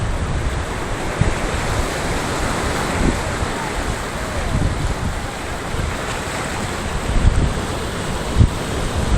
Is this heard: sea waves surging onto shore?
yes